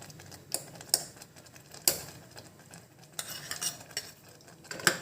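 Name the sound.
stirring black kavuni rice sweet pongal with added cashews, raisins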